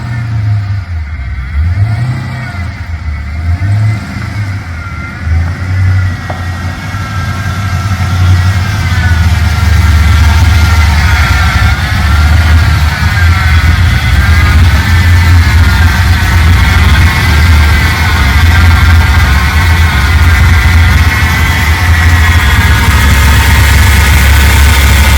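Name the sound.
rebuilt VT Clubsport engine revving and idling at first start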